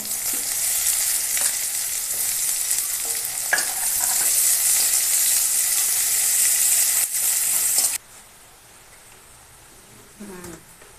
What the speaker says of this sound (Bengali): এই দেখো পেঁয়াজ রসুন লাল লাল করে ভাজা হয়ে গেছে